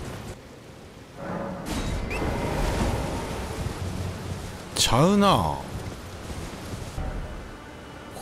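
Storm wind in Elden Ring roars steadily across the whole stretch, a broad rushing gust under brief talking, with a swell of stronger wind partway through.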